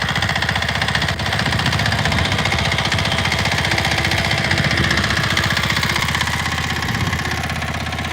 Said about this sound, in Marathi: बघा मित्रांनो ट्रॅक्टर चालू आहे